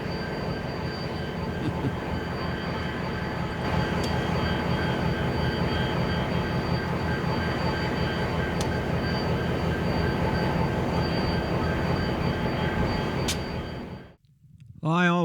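A freight train rolls past on the CSX line near a short-line interchange, a steady rumble with wheel clatter and occasional squeal lasting many seconds, heard from some distance before a voice cuts in at the end.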